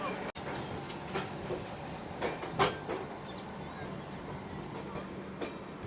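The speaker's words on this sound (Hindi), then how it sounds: "अपने एकदम निर्धारित समय 4:55 पे अपनी ट्रेन का डिपार्चर हो चुका है हजरत निजामुद्दीन रेलवे स्टेशन से।" Central Railway's Mumbai Rajdhani Express, train 22222, pulling out of Hazrat Nizamuddin station, heard from inside a first AC coach: a steady rolling rumble with scattered clicks and knocks from the rails, fairly close and even throughout.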